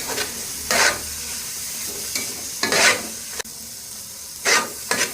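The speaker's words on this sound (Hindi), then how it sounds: "चम्मच की मदद से आपने हिलाई जाना है" Carrot halwa is stirred with a spoon in ghee, giving a steady low sizzle with repeated scraping strokes every second or so, close and fairly loud, with no voice.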